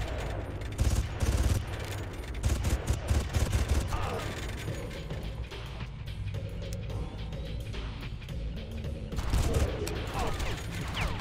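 Rapid gunfire in a Far Cry firefight, dense crackling shots and clattering mechanical noise rolling continuously with a few louder flurries, over a busy rumbling game background.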